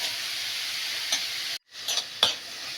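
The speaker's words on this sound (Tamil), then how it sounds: "நெய் கொஞ்சம் உருக விட்டு துருவி வச்சுருக்க கேரட்டை அதில் போட்டு" Grated carrot sautéing in melted ghee for carrot halwa, a steady close sizzle with a few sharp spatula scrapes and a brief moment of silence.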